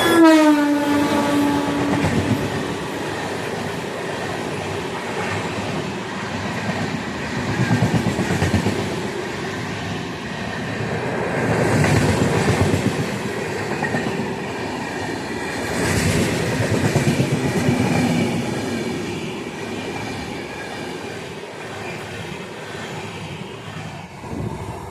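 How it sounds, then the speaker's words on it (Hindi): A Secunderabad–Hazrat Nizamuddin Duronto Express overtakes a Banaras–Hubli special train near a station. A horn sounds at the start, then a loud, steady rumble and wheel clatter continue close by, with no talking. "Secunderabad Hazrat Nizamuddin Duronto express overtaking Banaras Hubli special train"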